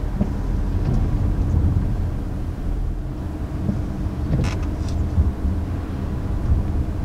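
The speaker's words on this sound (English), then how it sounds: "it's rainy outside so that amplifies the road noise as well and just cruising along here, it's pretty hushed inside the cabin" Inside a 2019 Hyundai Santa Fe cruising on a rainy road, a steady low rumble of tire and road noise fills the cabin, with faint wet hiss and a few brief splashy bursts.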